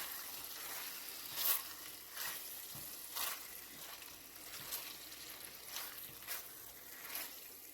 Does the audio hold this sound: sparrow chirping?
no